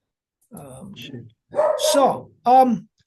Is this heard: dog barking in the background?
yes